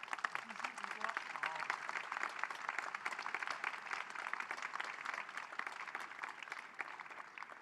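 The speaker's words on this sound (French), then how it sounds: "Sous vos applaudissements, mesdames, messieurs." Steady, dense applause fills a large room as an audience claps at a summit plenary session, sustained throughout at moderate distance.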